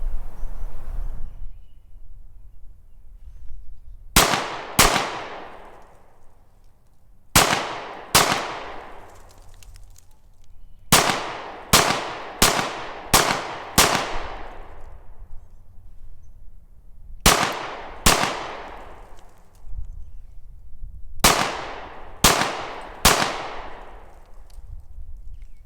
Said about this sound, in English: I'm going to be firing from a distance of 20 feet, just a series of double taps and triple taps to see how this ammunition is going to run in the Hellcat.